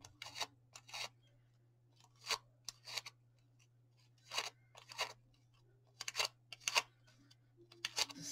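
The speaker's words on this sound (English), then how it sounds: "curl your leaves with your scissors or your bone folder" Scissors scrape against thick paper in quick, crisp strokes as paper leaves are curled, scattered irregularly over a quiet background with a low steady hum.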